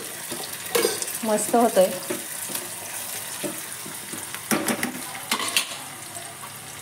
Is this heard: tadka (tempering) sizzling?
yes